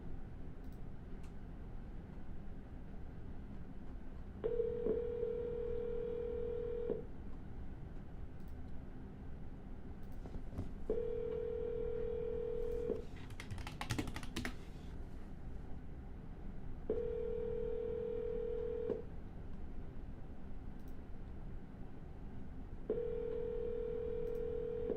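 A telephone line during a real-estate cold call, repeated steady tone bursts of about two seconds each with pauses between, plus a brief burst of clicking dial noise in the middle, no voices.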